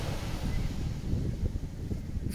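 Cool breeze and sea waves by a shoreline, a constant low wind rumble mixed with washing surf, steady and unbroken throughout with no talking.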